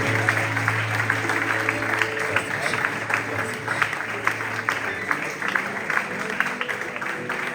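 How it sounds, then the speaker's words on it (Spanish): A crowd claps continuously, a dense, even burst of applause that holds steady from start to finish. "Recibimos la palabra con un aplauso, por favor"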